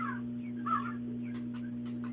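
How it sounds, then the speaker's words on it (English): A crow caws a few times from some distance near a backyard bee yard behind a trailer, short harsh calls over a steady low electrical hum, with no talking. "I hear a crow."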